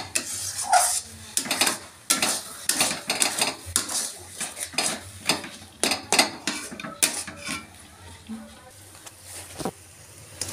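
A utensil stirs thick mashed taro (mankochu) paste in a pan, giving repeated close scraping and clinking strokes against the metal in an uneven rhythm, with a faint sizzle underneath.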